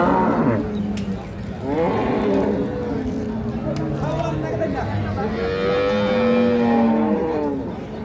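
A young Holstein Friesian bull calf moos several times in long, drawn-out bellows, close by, on a dairy farm, with people talking over and between the calls.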